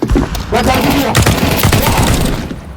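Counter-Strike gunfire pounds in dense, loud bursts of rapid shots that fill nearly the whole moment, with a player's voice talking underneath.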